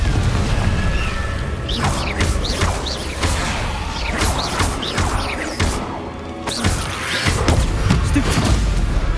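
Confringo spell blasts in the video game Hogwarts Legacy, several loud booming crashes and whooshes in quick succession among other combat noises, with a voice shouting between them.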